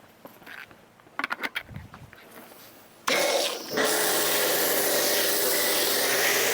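A low-pH car wash is sprayed onto a ceramic-coated car, a loud, steady hiss of pressurized spray that starts abruptly and keeps going, following a few quieter clicks and handling noises.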